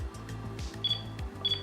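A Pentax KP DSLR gives two short, high electronic focus-confirmation beeps about half a second apart, faint over a low rhythmic background hum.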